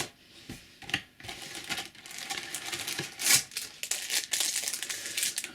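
Match Attax World Stars 2014 trading card packets are handled close up, with soft crinkling foil and paper rustles and occasional sharper crackles coming in irregular bursts.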